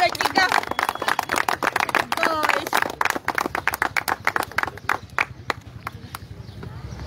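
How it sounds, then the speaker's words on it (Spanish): Clapping from a small group of people at a settlement eviction, a brisk run of sharp overlapping claps that thins into scattered claps toward the end, with voices talking underneath throughout. "Un aplauso para todo el sector de izquierda, chicas."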